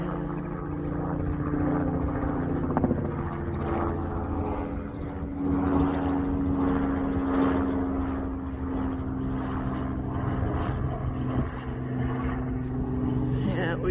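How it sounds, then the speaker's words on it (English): A helicopter passes overhead near a roadside fire in northeastern Ontario in spring, a steady rotor and engine drone that holds loud throughout, with a voice speaking over it. "comes the chopper."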